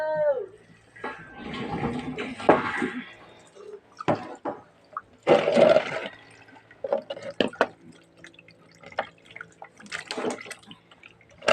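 Water running and dripping while fish is washed, with intermittent splashes and handling noises that come and go in bursts, close by and fairly quiet.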